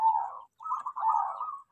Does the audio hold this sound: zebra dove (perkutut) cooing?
yes